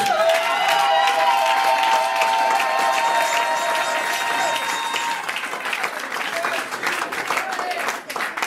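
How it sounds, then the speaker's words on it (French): A church congregation at a service led by a pastor applauds and cheers for the glory of God, sustained clapping and crowd voices loud and close, with tones fading midway and the applause thinning toward the end. "On peut d'abord acclamer pour la gloire de Dieu."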